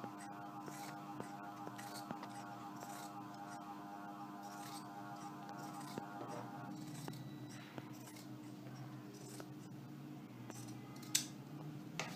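Scissors snipping through fabric while cutting a Chinese collar, a run of quiet, close, regular cuts over a steady electrical hum.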